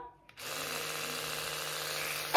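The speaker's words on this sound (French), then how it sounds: "C'est la première fois qu'il me fait une brosse à dents électrique." An electric toothbrush buzzes steadily and close by, a constant motor whine holding for about two seconds after a brief quiet start, then briefly growing louder at the end.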